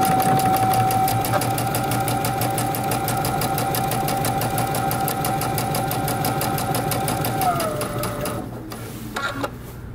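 Sewing machine stitching a jeans crotch seam, a loud fast steady mechanical whir close up for about eight seconds, then slowing and stopping with a few brief clicks.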